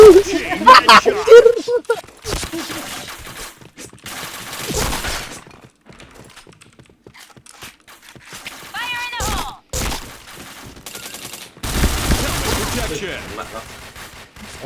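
Gunfire in a shooter video game: bursts of shots and impacts alternating with quieter gaps, loud and close, with people talking over parts of it.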